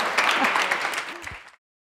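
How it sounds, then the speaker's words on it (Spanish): Short burst of applause from a conference audience after a presentation on circular solutions for organic waste, with voices mixed in. The clapping is fairly loud and stops abruptly at about a second and a half. "Un aplauso."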